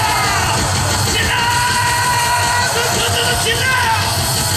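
Sustained loud yelling from a huge crowd at an anti-impeachment rally for President Yoon Suk-yeol in Daegu, a constant roar with individual whoops and voices standing out above the mass.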